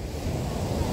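Sea waves wash onto a beach in a continuous, roaring surf, mixed with gusty wind buffeting the microphone. No voices are heard.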